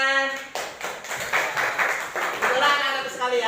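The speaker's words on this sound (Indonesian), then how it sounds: "Iya, tepuk tangan." Fourth-grade children in a classroom clap their hands together in a short burst of bright, close claps, with a teacher's voice and tonal speech-like sounds around the clapping.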